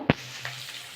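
Ginger paste sizzling in hot oil in a pan while cooking prawns, a single sharp splash as it hits the oil followed by a soft steady hiss, close and brief.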